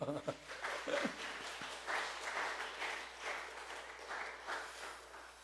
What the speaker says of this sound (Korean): 우리 아버지들 위해서 박수 한번 쳐주시죠.